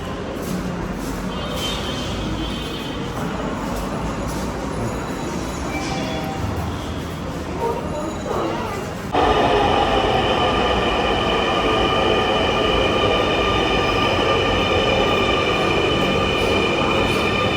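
A passenger train runs with steady rolling wheel and carriage noise, loud and close, swelling further midway as the rumble and high squeal grow.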